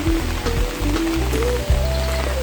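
Rain falling steadily on a walk toward a forest, a dense even patter close around, with a low tonal hum running underneath.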